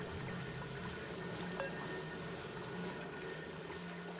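Steady, faint water pouring and gurgling runs continuously in Oxygen Not Included, a soft liquid wash holding an even level throughout, with no voices.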